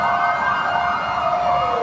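A fire truck siren wails loudly and steadily as firefighters respond to a fire on Quezon Avenue, a continuous close tone with a slowly shifting pitch.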